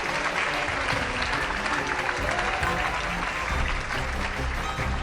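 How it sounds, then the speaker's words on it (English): Loud, sustained applause fills an awards gala hall, a dense wash of many hands clapping without a break, with faint crowd noise beneath. "Can we give him a big round of applause?"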